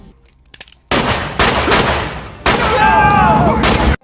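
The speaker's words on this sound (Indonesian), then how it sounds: "Dengan pistol di tangannya, Percy menembak mati Wild Bill tanpa ragu." Pistol shots in a prison film scene: a near, loud series of sharp reports, one after another, each ringing out briefly before the next, ending abruptly.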